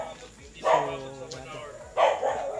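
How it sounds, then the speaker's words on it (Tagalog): A dog barks twice, close by, with short sharp barks about a second apart. "Ang ingay ng aso"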